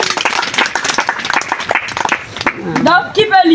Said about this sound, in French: Très bien, on applaudit pour eux.